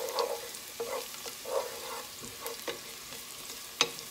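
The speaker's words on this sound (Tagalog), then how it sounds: "gusto ko yung nagbabrown yung bawang para mabango." Garlic frying in oil in a pan for chicken feet adobo: soft close sizzling with intermittent scrapes and stirring clinks, a sharper knock near the end, no talking.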